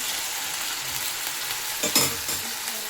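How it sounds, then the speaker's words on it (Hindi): Garlic sizzles and crackles in hot oil, a steady close hiss with a brief louder burst of stirring near the end. "मैंने पहले इसमें लहसुन फ्राई किया"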